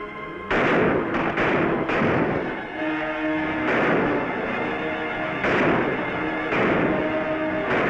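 Gunfire in a 1955 film battle scene, repeated loud booming shots at irregular intervals over a sustained din, heavy and reverberant, as if from big guns.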